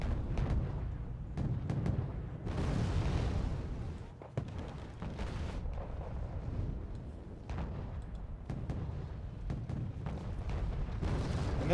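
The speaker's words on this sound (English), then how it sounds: "right now it's pretty much just a mortar phase, both sides mortaring back and forth" Mortar fire in the strategy game Wargame Red Dragon, both sides trading rounds, a steady stream of muffled booms and thuds with dull impacts at a distance, loud and continuous, no talk.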